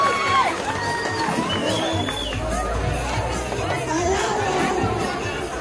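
Crowd at a school Day of the Indian celebration cheering and clapping for named participants, with whoops, children's shouts and babble over a steady wash of applause.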